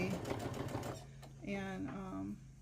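A sewing machine stitches straight across fabric in a quick, steady mechanical rattle that stops partway, followed by a person talking over the quiet.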